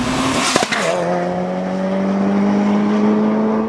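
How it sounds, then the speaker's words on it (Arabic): A Mitsubishi Evo 6 RS with a turbocharged engine revs briefly, then settles into a loud, steady, rising engine drone that carries on without a break and with no talking over it. "صوت السيارة طربي، صوت السيارة جدا مميز"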